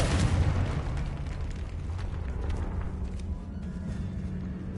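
A Confringo fire spell in Hogwarts Legacy bursts with a loud, booming blast at the start, then a rumbling, crackling tail that fades slowly.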